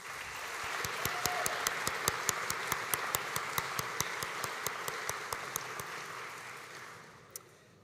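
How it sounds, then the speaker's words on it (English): At a graduation ceremony, the audience applauds with a crowd wash and a prominent run of sharp, evenly spaced claps near the microphone, fading out toward the end with one late clap. "Please join me in another round of applause for Madison"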